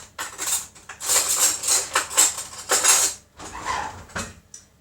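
A metal spoon clinks and clatters against dishes in a kitchen, a busy run of bright, close rattles lasting a few seconds, then a softer clink after a short pause.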